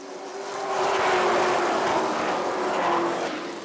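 Sportsman race cars accelerate on an oval speedway at a green flag restart, a loud, dense engine roar swelling and sustaining as the pack passes.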